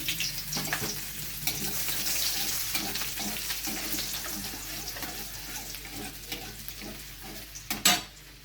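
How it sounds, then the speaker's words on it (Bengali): Chopped garlic fries with cumin in hot oil, giving a soft continuous sizzle with intermittent stirring scrapes and a sharper clatter near the end. "এবার আমি দিয়ে দিচ্ছি এতে রসুন কুচি।"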